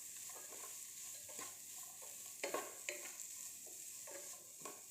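Capsicum and carrot strips being stir-fried for Maggi noodles: a steady hiss of sizzling oil with repeated scrapes and clinks of a spatula against the pan, close and continuous, with no talking.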